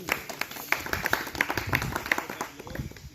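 A village audience at a cleanliness drive gives scattered, modest applause to welcome local officials. The clapping is fairly faint and distant over a steady background hum and some murmuring voices.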